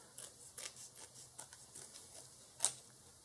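Scissors snipping rubber tabs during a mouse-damage repair on a Toyota Camry, a series of quiet, close, crisp cuts in an uneven rhythm, with one sharper snip near the end.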